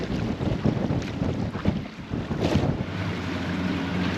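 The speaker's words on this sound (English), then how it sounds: "Now the wind is gusting 30 knots" Wind gusting around 30 knots over a sailboat at anchor off Nassau, a loud, continuous roar of gusts buffeting the microphone, with the rush of water and waves underneath.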